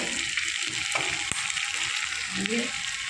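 Dry red chillies and panch phoron crackle and sizzle in hot oil as they are stirred, a dense steady frying hiss broken by occasional scrapes and taps of a spoon in the pan.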